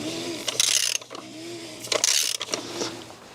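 A ratchet clicks in two quick bursts while tightening a bolt on the oil filter housing of an older BMW, close up with brief mechanical whirs between strokes.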